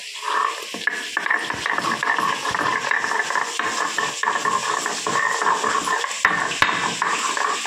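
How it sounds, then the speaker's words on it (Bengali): Ginger and garlic being ground on a shil-pata stone slab, a steady rough scraping and rubbing with occasional sharp knocks, close and fairly loud. "দেখুন বন্ধুরা, আদা রসুন পুরো মিহিন করে আমি বেটে নিচ্ছি শিলপাটায়।"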